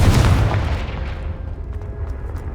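A Confringo blasting spell explodes in Hogwarts Legacy, a loud booming burst at the start that rumbles and fades into a lingering low tail.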